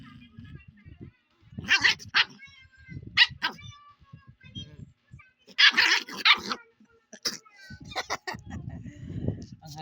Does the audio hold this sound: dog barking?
yes